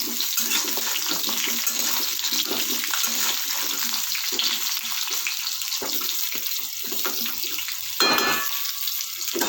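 Raw green mango pieces frying in a pan for a sweet-and-sour pickle, a steady loud sizzle throughout with occasional stirring scrapes and a brief louder hiss near the end.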